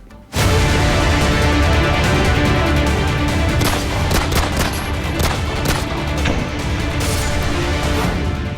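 Indian Army tanks open fire on militants in Akhnoor, Jammu and Kashmir, starting abruptly into a loud, sustained barrage of overlapping blasts and gunfire that rumbles and crackles without pause for several seconds with no voices.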